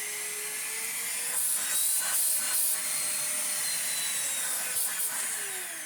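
A Greenote GSC40 cordless vacuum cleaner with two power settings runs steadily with a high, airy whine, its pitch wavering slightly as suction changes, close and continuous throughout.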